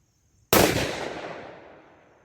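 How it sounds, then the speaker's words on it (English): A single loud, sharp report from a Mossberg Patriot Predator rifle firing 123 grain SST ammunition outdoors, followed by a long echoing decay that fades over the next two seconds. "last 2 shots here with the 123 grain SST"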